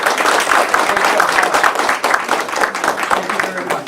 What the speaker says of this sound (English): how about a nice round of applause for Donna Hutchison